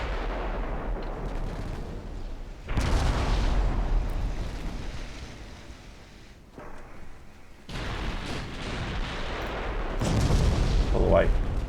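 Armor-piercing naval guns fire in a warship video game set in a Japanese campaign, with three heavy booming salvos a few seconds apart, each trailing off into a rumble over a low, steady battle ambience.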